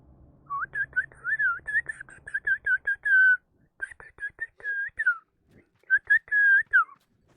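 A person whistles a bright, quick melody of short chirpy notes and longer held tones, close and clear, with brief pauses between phrases.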